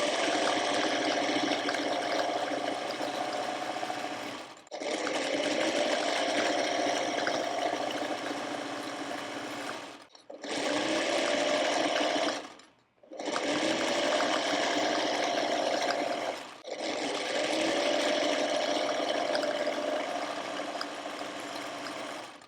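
A sewing machine stitches quilt block units in several sustained runs of steady, fast whirring, separated by short pauses, close and fairly loud with no talking.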